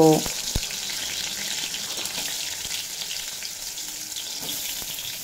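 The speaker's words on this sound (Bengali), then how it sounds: "তেল যখন ভালোভাবে গরম হয়ে যাবে তখন পটলগুলো এক এক করে" Pointed gourd (potol) pieces frying in hot mustard oil, a bright steady sizzle after a brief clatter as they drop in, close-up and without speech.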